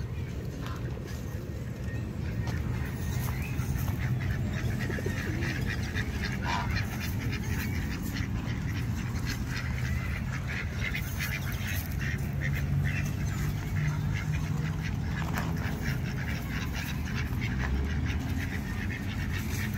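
Ducks quacking steadily at a farm, close and fairly loud, with geese honking among them and faint outdoor bustle throughout.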